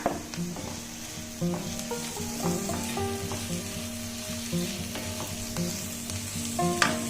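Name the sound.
sautéing onions and green chillies sizzling in a pan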